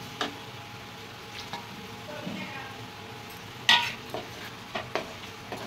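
Fish pieces stirred into spice masala frying in a pan, a soft steady sizzle with occasional scraping stirs and a sharp clink of a utensil, close up.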